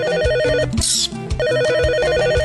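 A telephone ringing for a call-in radio show, a loud electronic trill in repeated bursts with a short break in the middle.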